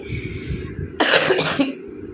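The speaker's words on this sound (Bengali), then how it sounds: "আর ভীষণ কাশি হয়েছে" A person coughs close by in a quiet indoor room, one short harsh burst of two or three rapid coughs after a moment of near silence.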